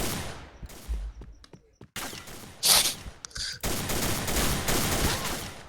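Gunfire from the shooting video game Point Blank comes in irregular bursts, sharp cracks and rattling volleys separated by brief silences, with the loudest flurries near the middle and a sustained barrage toward the end.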